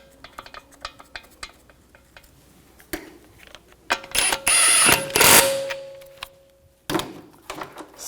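Socket ratchet tightening lug bolts on a 2011-2018 Volkswagen TDI Jetta wagon wheel, with scattered metallic clicks and clanks, then a louder sustained ratcheting stretch midway, close up and without talk.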